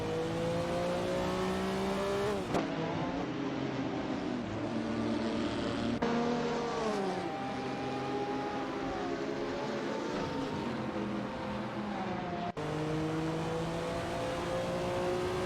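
Supercar engines roar continuously in a racing video game at the Forli Ring circuit, with loud revving and shifting pitches as cars accelerate and pass, gear changes breaking the steady drone.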